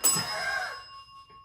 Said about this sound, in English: You like that bell, don't you?